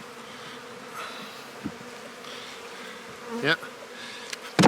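Honey bees buzz in a damp, wrapped hive full of honey, a steady close hum with a few louder passes near the end and a single brief word spoken.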